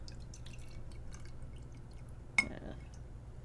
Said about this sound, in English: And now I'm going to pour it into this glass.